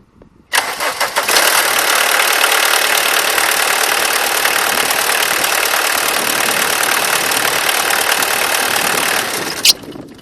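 A Volkswagen Golf Mk3 diesel engine turns over, catches and runs at a loud, steady rattling idle close by, then cuts off abruptly near the end.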